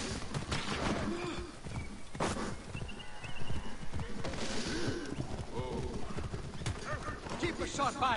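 Horse hooves clip-clopping in Assassin's Creed Origins, a steady rhythmic trot at moderate distance under continuous game ambience, with a voice talking over it.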